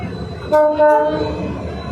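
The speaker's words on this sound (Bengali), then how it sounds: "দেখুন এক সাইডে দিয়ে শুধু ট্রেন যাচ্ছে" A train runs along a flooded railway line near the Sal Chapra rail gate in Silchar, sounding a loud, close horn in two quick blasts over a low running rumble.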